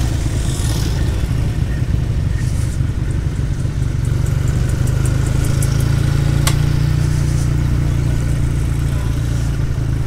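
A classic British motorcycle ridden steadily, its engine a loud, continuous low drone with a slight rise in pitch partway through, close up and dominant with wind rush on top.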